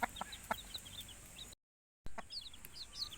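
Backyard hens cluck and a rooster sounds off in a few short, sharp calls, with faint chick peeps mixed in, up close. A brief silent gap falls midway.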